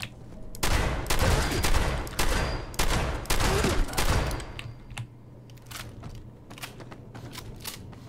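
Shotgun blasts in Fallout 76 come as a run of loud, sharp booming shots in quick succession, then trail off into scattered fainter shots and clicks.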